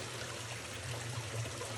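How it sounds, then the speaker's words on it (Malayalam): A mountain stream runs beside a roadside, giving a steady, soft trickling and rushing of water that stays continuous and fairly faint throughout, with no voices. "ഇതൊക്കെ മലയിൽ നിന്ന് ഒഴിച്ചിരുന്ന വെള്ളമാണ്"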